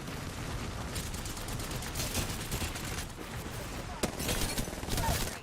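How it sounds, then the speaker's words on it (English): Rumbling, crackling explosions from an airstrike in the Apex Legends video game pound on without a break, with a sharper blast near the end. Voices can be heard faintly underneath. "Airstrike."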